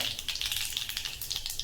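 Cumin and mustard seeds crackle and pop in hot oil while tempering a home-style urad dal, a dense, steady spluttering close to the pan.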